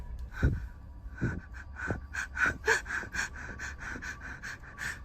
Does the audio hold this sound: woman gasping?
yes